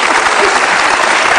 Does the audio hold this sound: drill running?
no